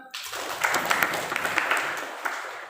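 Students in a classroom during a teacher-training demonstration lesson clap their hands together, producing a brief, dense burst of applause that holds steady and then thins out.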